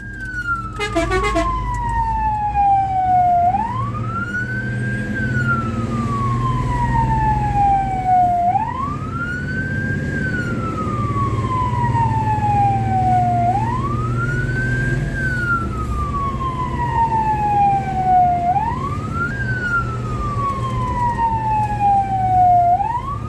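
A fire engine's wailing siren cycles up and down in steady sweeps, loud and close, while the truck's engine rumbles beneath during a run to a grass fire.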